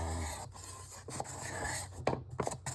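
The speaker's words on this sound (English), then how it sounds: "scraper leaves a better finish than sanding" A hand scraper is drawn across ukulele wood in short, quiet rasping strokes, a soft irregular series of scrapes close by with pauses between them.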